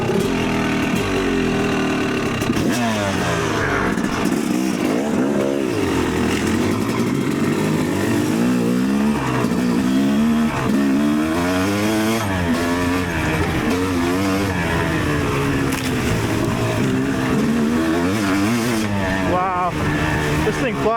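An electric-start YZ300 dirt bike engine runs loud and close throughout, its two-stroke note rising and falling with the throttle, and a voice talks over it in places.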